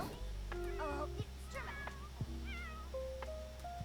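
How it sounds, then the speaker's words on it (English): A cat in The Sims 4 gives a string of loud, repeated meows with rising and falling pitch, while a low droning background plays steadily under them. "Why are you yelling at the cat?"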